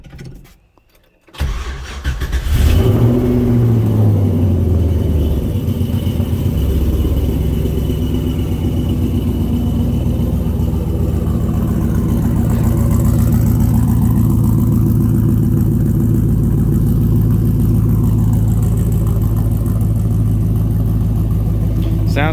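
An LS-swapped Ford Fairlane fitted with a muffler cranks briefly, fires up loudly and settles into a steady, deep, rumbling idle that runs on close by for about twenty seconds.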